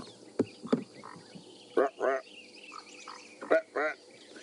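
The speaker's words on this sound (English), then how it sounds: "There's a grey tree frog or a foam nest frog making noise." A grey tree frog or foam nest frog gives several loud, nasal croaks in pairs, close by, separated by pauses, with soft background chirps and rustling.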